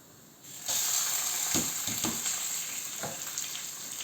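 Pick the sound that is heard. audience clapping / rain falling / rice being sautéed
rice being sautéed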